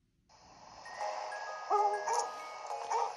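Dog vocalising in a high, whining, wavering way, whimpers and yelps rising and falling continuously, close and loud, during a greeting with another dog on a walk.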